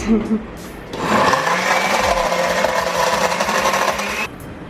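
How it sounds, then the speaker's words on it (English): Blender whirring loud and steady for about three seconds, mixing protein shakes with ice, starting and stopping abruptly, with a brief voice before it starts. "Now we're gonna mix it and mix it and mix it."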